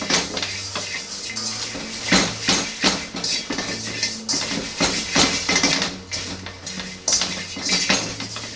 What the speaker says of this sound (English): Rub it around the whole wok.